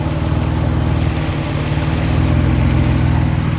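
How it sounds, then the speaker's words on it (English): A boosted Nissan 350z engine idling with a misfire from a missing coil pack bolt, a loud, close, steady low rumble with an uneven, stumbling pulse throughout and no talk. "she doesn't sound too bad, but definitely has a misfire"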